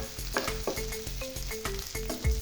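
Cubes of pangas fish frying in hot oil on a stove, a steady close sizzle with a soft rhythmic bubbling pulse, no voices.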